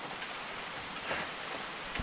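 Steady rain patters on a mountain hiking trail, a dense continuous hiss of drops on surfaces, close and even, with a sharper drip or knock near the end.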